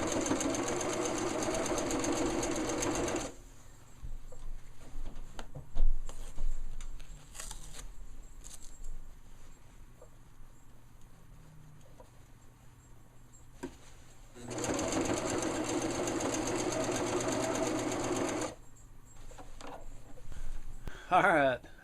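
A sewing machine stitches the ends of a homemade tree tent in two sustained bursts of steady whirring, with quieter handling and shuffling between them.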